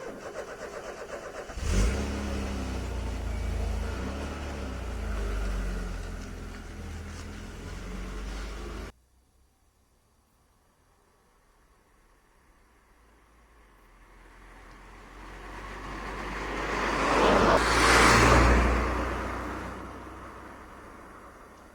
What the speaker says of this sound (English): So we're out for a drive in the XR3i, here on the lovely coast road at Whitsand Bay in Cornwall